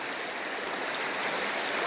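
Waddell Creek rushes along in a steady, close, full hiss of flowing water that stays even from start to finish, with no voices over it.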